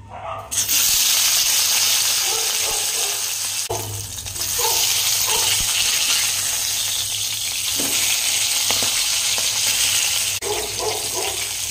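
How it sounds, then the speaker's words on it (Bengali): Fish heads fry in hot mustard oil in a kadai, giving a loud, close, steady sizzle and hiss that swells when they hit the oil, with occasional spatters and stirring clatter and no talking. "এবার আমি মাছের মাথাগুলো ভেজে নেব।"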